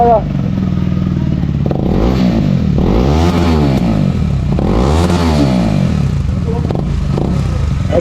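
A Husqvarna Svartpilen 250 motorcycle with its exhaust dB killer removed idles loudly and revs up twice in rising and falling sweeps, close by.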